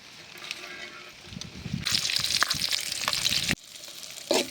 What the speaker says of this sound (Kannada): ಈರುಳ್ಳಿ ಸ್ವಲ್ಪ ಚೆನ್ನಾಗಿ ಫ್ರೈ ಆಗಿದೆ.